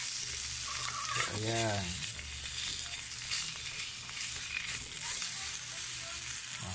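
Chicken longganisa cooks in a pan without oil, only water, giving a continuous close sizzle and crackle; someone briefly speaks over it with a short rising voiced sound early on.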